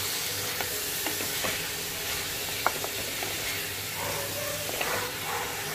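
Drumsticks sizzling and frying in a pan for a pepper drumstick dish, with steady hissing and scattered scraping clicks as a spoon stirs them, fairly close and continuous.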